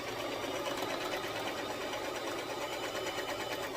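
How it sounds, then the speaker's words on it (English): A sewing machine stitching a ribbon-trimmed rainbow tutu skirt, a steady close whirring, rapid mechanical rattle running continuously at even loudness. "So I'm gonna go ahead and sew. Make sure you backward stitch."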